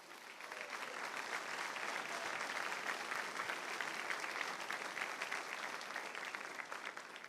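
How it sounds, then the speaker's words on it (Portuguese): A church congregation gives a long, steady round of applause, a dense even wash of many hands clapping at once, fairly distant and sustained for the whole stretch with no talking over it. "dá uma linda salva de palmas"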